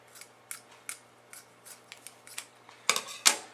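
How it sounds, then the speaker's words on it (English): Scissors snip through cheesecloth while rectangles are cut for straining paneer, a series of short crisp snips at a steady pace, ending in two louder, closer cuts. "So I opened up my cheesecloth. So I'm just going to cut out a couple rectangles and put them down."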